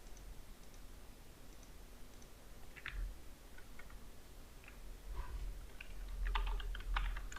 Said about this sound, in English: Now type here your text.